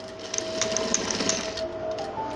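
Sewing machine running steadily while back stitching matching thread on an invisible zip, a close continuous motor whirr with a bright repeating needle rhythm for a couple of seconds.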